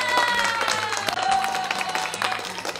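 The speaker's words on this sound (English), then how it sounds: "let's give them a round of applause for winning this" An audience claps and cheers to honour a winning bid at a Singapore property event, a short burst of scattered applause with music-like tones underneath.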